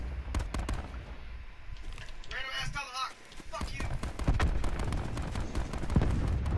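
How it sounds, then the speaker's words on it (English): A cluster grenade going off in Call of Duty Blackout, a burst of sharp, rapid bangs and crackling blasts scattered through the clip amid game noise, with players talking over it. "that was a cluster grenade"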